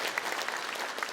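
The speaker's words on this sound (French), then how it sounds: "Nous avons un applaudissement, s'il vous plaît" An audience at a national innovator hall of fame award ceremony gives a brief burst of applause, an even, crowded patter of many hands clapping at moderate loudness.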